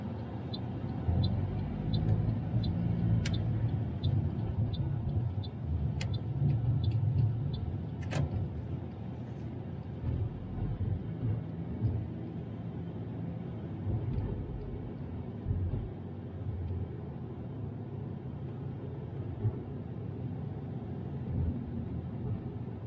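Inside a car during a driving lesson, cruising at about 50 km/h on a 60 km/h road: a steady low engine and road rumble, with faint rhythmic ticking early on and no voices.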